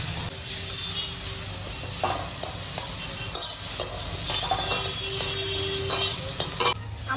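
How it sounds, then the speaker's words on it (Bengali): Chopped onions with green chilli and a pinch of salt fry to a light brown in a pan for a village-style shol fish curry, giving a steady close sizzle with intermittent scraping and stirring knocks throughout. "আমার পেঁয়াজটা মোটামুটি বাদামি রং করে ভাজা হয়ে গিয়েছে"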